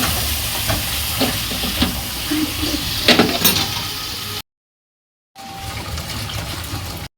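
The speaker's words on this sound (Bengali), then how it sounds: "এবার একটু গরম জল দিচ্ছি, গরম জল করা।" Hot water is poured into a simmering fish curry with potato, green banana, ridge gourd and bori in a pan, giving a loud hissing sizzle that cuts out briefly, then a softer bubbling simmer.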